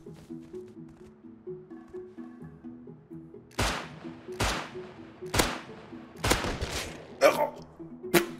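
Gunshots in the survival game Rust: five or six loud, sharp shots spaced roughly a second apart, fired over a continuous low musical drone with some voice in the background.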